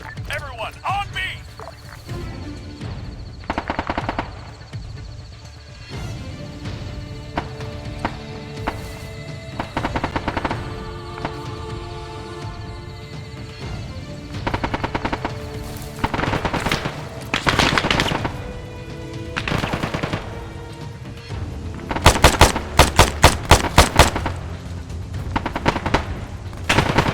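Machine-gun fire in the Arma 3 campaign prologue: repeated bursts and single gunshots crackle near and far across a battlefield, with a heavy flurry near the end, while soldiers shout orders over the shooting.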